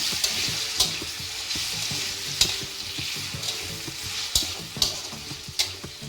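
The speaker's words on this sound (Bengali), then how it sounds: "আমাদের মোটামুটি মশলা ভাজা হচ্ছে।" Whole spices fry in mustard oil for Bengali rohu fish curry with potatoes, giving a steady, close crackling sizzle broken by several sharp spits and scrapes of stirring, with no voices.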